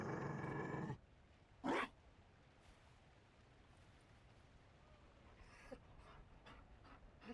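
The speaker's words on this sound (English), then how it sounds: "You found a dog?" Panting of a Mabari war dog in Dragon Age Inquisition, a brief loud breathy burst after an opening stretch of game noise, then quiet low ambience with faint scattered sounds.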